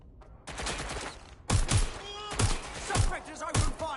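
Repeated gunshots in the Watch Dogs video game, a police shootout with several sharp, loud bursts spaced about half a second to a second apart, heard alongside game voices and speech.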